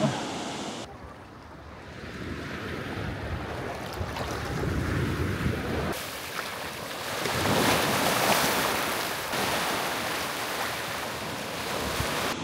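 Surf washing in on Coconut Beach in Khao Lak, Thailand: a steady broadband rush of breaking waves that swells and eases, with wind buffeting the microphone throughout and no voices.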